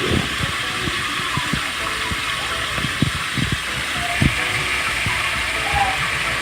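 A broad hissing spray of cooking spray into a pan runs steadily throughout, with scattered clicks and clatter of the pan underneath.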